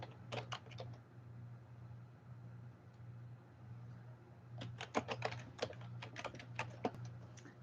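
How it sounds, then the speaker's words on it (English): Quick bursts of keystrokes on a computer keyboard, close and fairly quiet, one short flurry followed by a longer run of taps over a steady low hum. "Let me just type in that"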